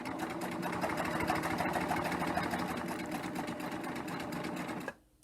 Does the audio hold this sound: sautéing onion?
no